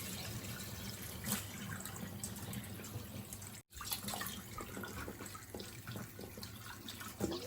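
Food for a Thai rice sausage is rinsed in water, producing a continuous close splashing and running-water wash with small sloshes and drips, quiet overall and briefly cutting out midway.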